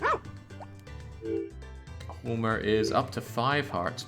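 A dog barks a few times in the video game Harvest Moon: Back to Nature, with short bright yelps over chiptune-style game sounds while a person talks.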